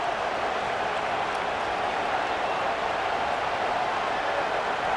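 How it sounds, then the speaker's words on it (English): Stadium crowd at a Texas Tech versus Texas football game, a steady, dense roar of cheering that holds at an even level throughout with no pauses and no clear voices rising above it. "The crowd elevating its energy, willing this defense to get a stop on this big third down."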